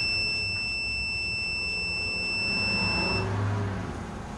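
An ignition timing tool on a Honda CL175 motorcycle sounds a steady, high electronic tone that cuts off about three seconds in, leaving a low background hum.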